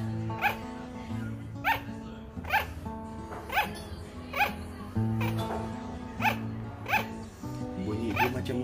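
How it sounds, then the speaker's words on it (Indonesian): A pet sugar glider gives a run of about eight sharp, yipping barks like a small dog, evenly spaced at roughly one per second, close and clear over a soft background. "Bunyi dia macam anjing menyalak."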